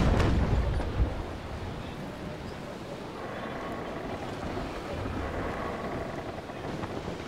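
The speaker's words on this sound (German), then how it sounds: "Die Wellen." Ocean waves in the Naval Action sailing game wash and rumble in a continuous low surge, a brief thud near the start, steady and moderately loud with no talk.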